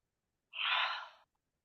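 One close, breathy yawn, either real or fake, during a guided movement exercise: a single open-mouthed airy exhale lasting under a second, surrounded by silence.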